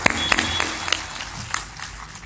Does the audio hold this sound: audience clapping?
yes